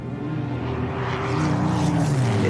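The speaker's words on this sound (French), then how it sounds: "Un avion va alors devenir le symbole de la volonté farouche de résistance de tout un peuple, le Spitfire." A Spitfire fighter plane's propeller engine drones steadily and loudly, swelling slightly louder toward the end, with no one speaking.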